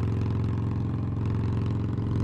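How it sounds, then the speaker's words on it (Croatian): A Harley-Davidson Forty-Eight motorcycle cruises in third gear at about 80, its V-twin engine purring with a steady, loud low-pitched throb and an even pulsing rhythm throughout. "da ti čuješ kako ovo lepo prede"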